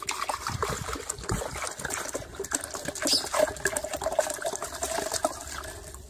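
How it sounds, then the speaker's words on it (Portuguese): A liter of water poured into a kitchen blender makes a continuous splashing trickle, fairly close and moderately loud, running steadily across the whole stretch with no one talking. "Um litro de água no seu liquidificador. Vamos colocar aqui, acrescentar aqui um litro de água aqui."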